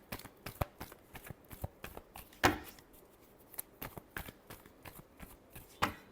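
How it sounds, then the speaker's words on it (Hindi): A deck of tarot cards is shuffled close by, giving repeated quick riffling flutters and soft slaps in an irregular rhythm, fairly quiet and without talk. "Last shuffle."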